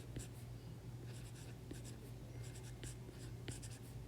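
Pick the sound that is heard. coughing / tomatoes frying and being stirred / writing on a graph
writing on a graph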